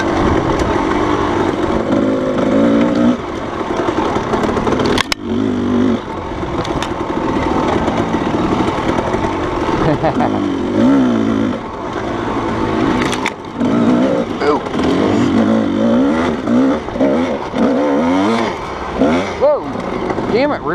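A Kawasaki KDX220 two-stroke dirt bike roars continuously while being ridden across the desert, its revs rising and falling with a buzzy, ragged tone. The engine stays close and loud throughout, with wind noise and a few sharp knocks.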